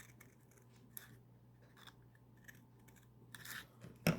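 Scissors snip through a paper rocket body tube in a few short, quiet cuts with brief rustling between them, closing on one sharper, louder snip near the end.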